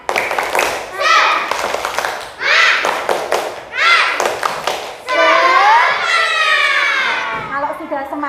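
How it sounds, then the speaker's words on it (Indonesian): Schoolchildren in a classroom perform a rhythmic spirit clap, with bursts of clapping in short patterned groups mixed with loud group chanting and shouting, ending in a longer sustained cry from the class. "kita tepuk semangat dulu ya"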